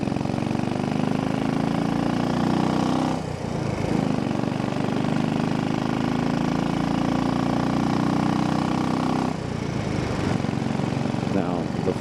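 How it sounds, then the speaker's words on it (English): A Royal Enfield motorcycle engine runs steadily with a constant thumping drone, close and loud, with wind noise and a slight rise and dip in pitch as it rides along. "they love the sound of a Royal Enfield"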